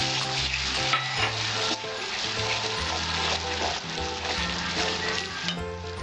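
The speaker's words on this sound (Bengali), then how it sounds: "আমি টমেটো পিউরিটা দিয়ে দিচ্ছি আমাদের" Tomato puree going into a hot oiled pan for a Bengali tel koi fish curry, a continuous close sizzle and frying hiss with occasional stirring scrapes throughout.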